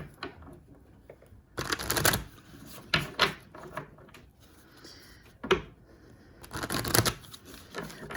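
Oracle cards are riffled and shuffled by hand in several quick, crisp bursts separated by short quiet gaps and soft handling rustles, close up with no talking.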